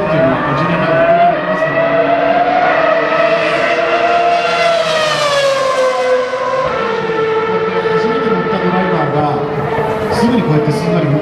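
Giuliano Alesi driving a Ferrari F1 race car at Suzuka, its high-pitched engine wailing and shifting as it passes, loud and sustained, with a commentator talking throughout.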